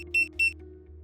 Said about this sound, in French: Après 10 secondes, 3 bips sont émis.